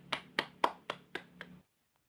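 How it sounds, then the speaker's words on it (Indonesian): Students in a classroom clap about six times in a quick, even rhythm over under two seconds, the claps crisp and close, then stop abruptly into silence. "Tepuk tangan dulu dong buat kalian"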